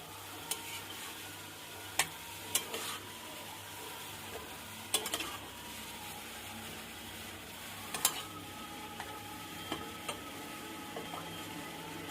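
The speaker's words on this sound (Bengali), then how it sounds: "মশলার সঙ্গে বাঁধাকপিটা ভালো করে মিশিয়ে নেব।" Cabbage is stirred with spices in a pan cooked in fish oil: a quiet, steady scraping and faint sizzle, with sharp spatula clicks against the pan every second or two.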